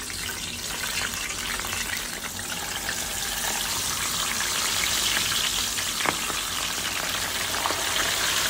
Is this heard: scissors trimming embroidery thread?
no